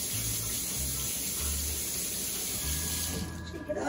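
Steady running of a kitchen tap while hands are washed during fish taco prep, a continuous broadband splash at close range with faint low hum, no speech.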